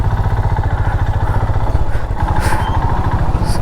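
A motorcycle engine idles close by while the bike is parked near the entrance of Warangal Fort, giving a loud, steady, rapid low putter with slight revving swells and no talk.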